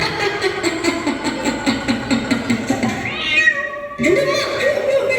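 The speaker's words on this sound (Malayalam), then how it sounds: "പൂച്ചയായിരുന്നോ?" A cat meows several times in a stage play setting, with a run of drawn-out, rising and falling meows around the middle, heard fairly close alongside performers' voices and background noise.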